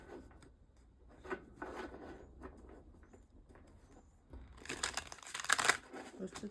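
Tarot cards get a quick few shuffles, soft papery rubbing and crinkling through the first seconds, then a denser, louder burst of riffling near the end, close up.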